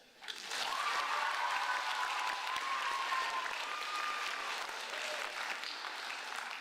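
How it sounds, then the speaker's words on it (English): A chapel crowd applauds steadily, a dense wash of clapping that starts abruptly and holds at an even level throughout. "can we just give a quick round of applause to Ellie because she truly deserves it."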